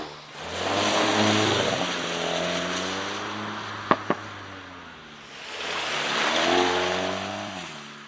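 A VW Golf GTI Clubsport accelerating at motorway speed, its engine droning steadily from inside the cabin, with a brief click and a dip in tone as it shifts down before the revs swell again.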